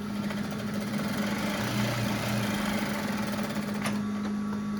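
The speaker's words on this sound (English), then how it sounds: "So I'm going to be sewing my hem first. Okay. Back stitching." Sewing machine back stitching a sleeve hem, a steady low mechanical hum with a brief change in pitch midway, quiet and continuous with no talk.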